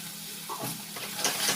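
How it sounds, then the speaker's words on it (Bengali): Spice paste frying in oil in a pan while being stirred, giving a steady close sizzle with brief scraping stir sounds, no talking. "মশলাটা দিয়ে এবার খুব সুন্দর করে তেলের মধ্যে আগে মশলাটা ভেজে নিলাম"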